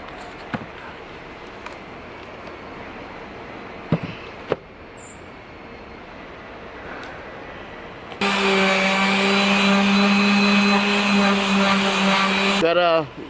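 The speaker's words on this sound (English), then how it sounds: "I just have to sand it down a little bit and clean it up before I start" A dirty wooden balance board is sanded with a power sander that whirs on loudly and steadily for about four seconds near the end, after a stretch of quiet handling noises with a few sharp knocks.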